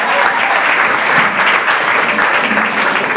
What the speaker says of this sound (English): Ladies and gentlemen, continue a round of applause.